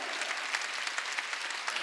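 A church congregation claps at a Sunday worship service, making a dense, even wash of applause for about two seconds. The clapping stays steady and fairly distant, and no voices stand out.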